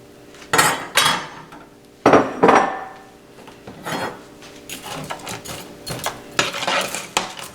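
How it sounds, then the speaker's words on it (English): A pound of shrimp tumbling into melted butter in a skillet, with a few loud clattering bursts of utensil and pan contact separated by quieter sizzling and shuffling. "I've already got some butter melting in the skillet, and to that, I'm going to add a pound of shrimp."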